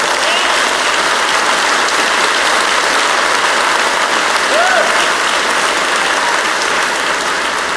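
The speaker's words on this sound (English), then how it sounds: "Yeah, you should be applauding." A large conference audience applauds loudly and continuously at a cystic fibrosis foundation plenary session, a dense steady roar of clapping with no talk.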